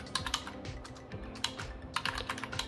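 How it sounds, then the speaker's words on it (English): Rapid, uneven clacking of keys on a keyboard connected to a tablet, close and clear, with irregular bursts of keystrokes and no talking. "this is a test for the keyboard connected to"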